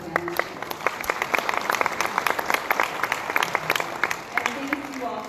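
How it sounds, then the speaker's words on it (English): Scattered audience clapping for workshop panelists at a broadband meeting, a fairly faint and loose patter of individual claps with a voice or two faintly audible. "Let's give a round of applause for our panelists."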